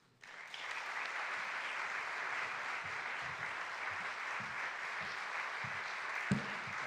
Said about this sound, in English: I take it as a really good sign when people clap before I've actually done anything at all.